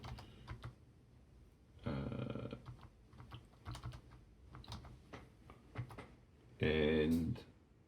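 Someone types a terminal command on a computer keyboard, with irregular quick key clicks and two louder bursts of rapid keystrokes.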